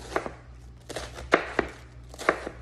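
A knife cuts through fresh cabbage on a cutting board in a series of crisp, close chopping thuds, irregular but steady, about eight strokes in quick succession over a faint low hum.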